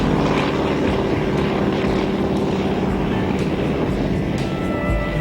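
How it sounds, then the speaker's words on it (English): Steady, loud drone of a propeller airplane with a Pratt & Whitney engine and Hamilton Standard prop, flying on a summer afternoon over Long Island Sound, a continuous rumble with wind noise throughout. "The Pratt & Whitney engine and Hamilton Standard prop give off a distinctive sound."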